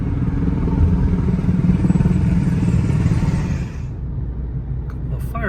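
A couple of regular fire engines pull out from the vice president's residence on a hot day, a loud close rumble and clatter of engines that drops away after a few seconds.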